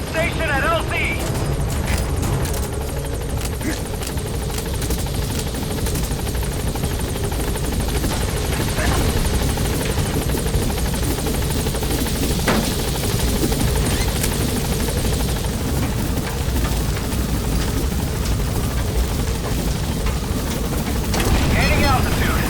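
Pequod support helicopter from Metal Gear Solid V hovering at a landing zone, a loud continuous rotor roar with thumping blades filling the whole stretch, and a radio voice speaking over it.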